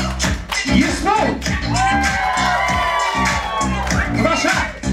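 At a wedding celebration's dance contest, a crowd cheers, shouts and whoops loudly over thumping rhythmic music, the excited voices rising and falling throughout.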